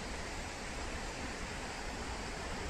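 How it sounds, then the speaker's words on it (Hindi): A fast-flowing waterfall on a trekking route in Kashmir roars as a constant, dense rush of water, steady and enveloping without pause or voices. "झरना देखिए, इसका पानी बहुत तेज बह रहा है।"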